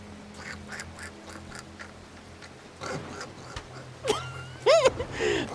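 A man imitates a duck with a few loud, nasal quacks near the end, after scattered quieter sounds and a low background hum.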